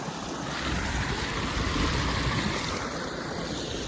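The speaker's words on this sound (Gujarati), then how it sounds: "કેવું વહેતું પાણી છે ડુંગરમાંથી આવે છે તાજું પાણી" Steady, continuous rush of a hill stream near Hastgiri, Palitana, broadband and fairly loud throughout, running close by with no voices.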